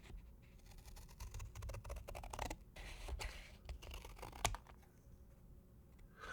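Scissors snip through plastic packaging during a close-miked ASMR fidget toy unboxing, giving a steady run of crisp, crinkly cuts and scratches with no talking.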